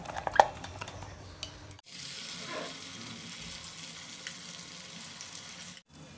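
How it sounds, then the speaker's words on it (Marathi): Mustard seeds, sesame seeds, curry leaves and asafoetida sizzle and crackle in hot oil, a close steady fry with a clank of a pan near the start and brief stirring noises. "तेल गरम झालं की राई, तीळ, कढीपत्ता, हिंग 2 पिंच मिक्स घालताना आपण चांगलं व्यवस्थित असं मिक्स करून घ्यायचं।"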